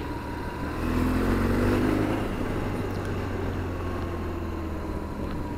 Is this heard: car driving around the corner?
yes